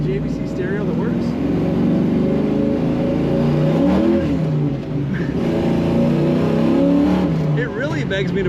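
A 1970 Chevrolet Camaro Z/28 engine runs loud and close, its rumble rising and falling through a few throttle blips, with a voice talking over it.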